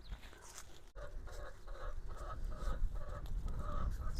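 Garden chickens cluck in a repeated, rhythmic series of calls at moderate distance, starting after a brief pause and continuing steadily beneath low outdoor rumble.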